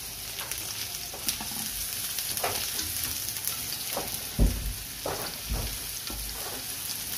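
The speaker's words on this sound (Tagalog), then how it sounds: "Haluin lang natin ng haluin para yung ating sahog hindi siya masusunog." Onions frying for chicken curry, sizzling steadily in a pan with scattered scraping stirs and a few louder clanks of the utensil against the pan.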